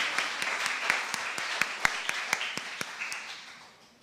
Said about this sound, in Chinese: 然后我们掌声欢迎他们